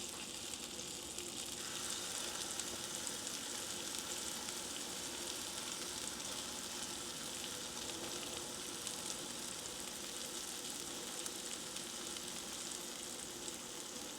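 Steady, dense sizzling of buttermilk pancake batter frying in a hot pan, a constant close crackle and hiss that stays even throughout with no talk.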